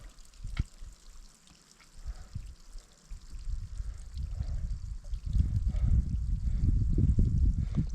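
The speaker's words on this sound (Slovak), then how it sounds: "Jak tam teče tá voda. Celá stena." Water streams down a whole rock wall in the Schneeberg and Rax mountains, a steady trickling rush that builds into a fuller, louder wash partway through, with no talking.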